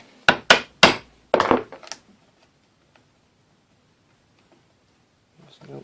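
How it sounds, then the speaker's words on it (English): A wood chisel chopping a bridle joint gives four sharp, loud strikes in quick succession, then near silence with faint knocks and a soft shuffle at the end. "Keep your eye up your chisel, make sure it's 90 degrees here, keep it straight."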